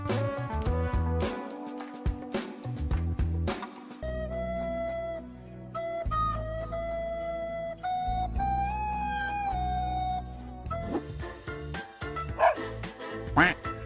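A dog barks and yips in short bursts over loud music, with a voice briefly heard.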